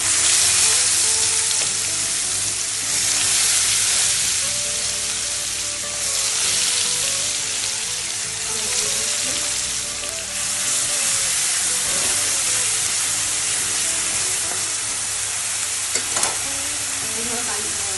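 Onions sizzle and fry in a pan for a Bengali pomfret fish korma, a loud, continuous hiss with bursts of stirring and spattering, heard alone without talk.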